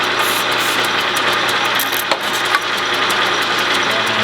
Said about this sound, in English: Turn the lathe on, put a little lube on my,